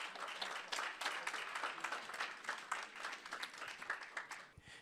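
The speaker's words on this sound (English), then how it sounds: "give them a round of applause" A round of applause from the audience at a Black men's legacy summit panel event, steady crowd clapping that is fairly quiet and distant, sustained throughout without a break.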